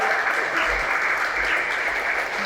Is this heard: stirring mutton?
no